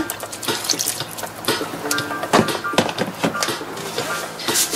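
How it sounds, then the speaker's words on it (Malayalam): Water splashes and gurgles into a cooking pot holding tomato, onion and green chilli for a curry, a continuous close pouring sound with scattered metallic clinks and bubbling. "ആവശ്യത്തിന് വെള്ളം ഒഴിച്ച്"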